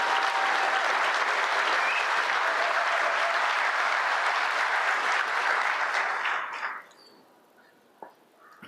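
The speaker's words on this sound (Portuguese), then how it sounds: "Uma salva de palmas à segurança pública brasileira." Sustained applause for Brazil's public security professionals fills a large hall, steady and dense for about six seconds, then cuts off abruptly into near silence with a faint knock near the end.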